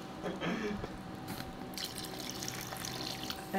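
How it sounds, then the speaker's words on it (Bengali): Water trickles and splashes as it is poured into beef curry simmering on a clay stove, a soft pouring sound, quiet and close, with faint background noise. "আর একটু পানি দিতে হবে"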